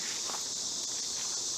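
Cicadas in a West Virginia graveyard, a continuous high, steady buzzing drone held evenly throughout, with faint footsteps and rustles underneath.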